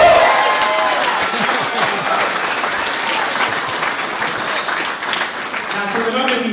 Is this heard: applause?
yes